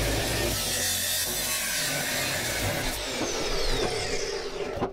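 A driveshaft tube being cut off for lengthening, with a steady broadband cutting noise running continuously through the whole stretch, close and fairly loud, with no talk.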